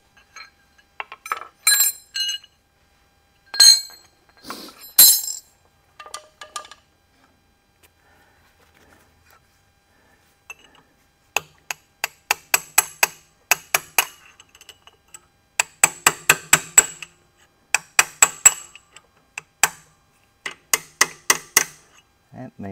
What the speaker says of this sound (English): Get a chisel wedged in there and tap that out.